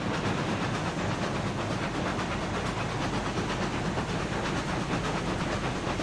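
Steady, loud rumble of a long freight consist in the Railroads Online game, six locomotives hauling twenty oil tankers up a 4% grade, with continuous rolling hiss and faint clatter throughout, no talk.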